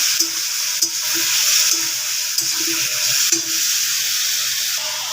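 Spiced cauliflower frying in a pan with salt, chili and a splash of water, giving a loud continuous hiss of sizzling with a few sharp utensil knocks throughout.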